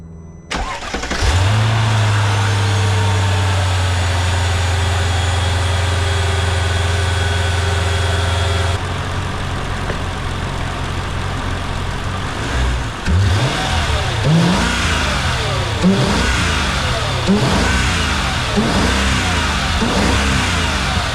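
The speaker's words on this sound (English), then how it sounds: "Okay, we are about to start the engine." A Mercedes CL55 with the supercharged M113K V8 cranks with a loud starter whir and catches, then settles into a strong, steady idle close by, later blipped into several rising revs with no voices present.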